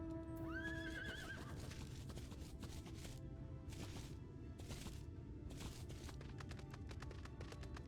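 A horse mount in Final Fantasy XIV whinnies at the start, then its hooves clip-clop in a steady running rhythm that carries on over a continuous low background.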